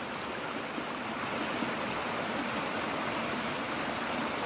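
A stream flowing beside the Appalachian Trail gives a steady, even rush of water that stays constant throughout with no voices.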